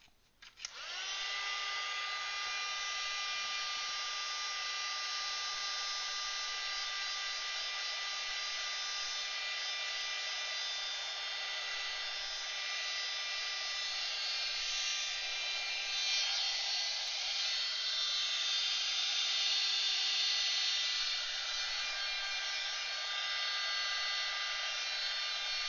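Hair dryer blowing on artwork, a loud steady whining roar that starts abruptly and runs continuously at close range, with no talking over it.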